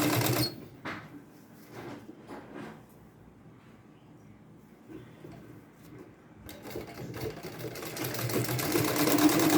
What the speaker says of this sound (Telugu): ఎలాస్టిక్ మీద మనకి ఇప్పుడు కుట్టు పడుతుంది